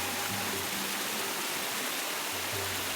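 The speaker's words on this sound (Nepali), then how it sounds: "यता चाहिँ खोला अलिक ठुलो रहेछ यहाँ चाहिँ" River water rushes steadily beside a road, a loud, continuous broadband roar close by with faint low engine tones coming and going.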